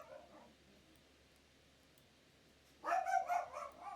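Dogs barking indoors, a short burst of several yaps near the end after a quiet stretch, moderately close.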